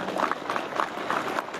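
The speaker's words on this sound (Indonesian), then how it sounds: "sekali lagi tepuk tangan untuk para santri" An audience at a Hari Santri Nasional gathering applauds the santri, a dense, even patter of many hands clapping without pause through a brief moment.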